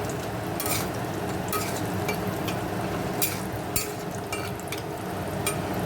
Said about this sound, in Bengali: আমি আগে কটা বড়ি ভেজে নেবো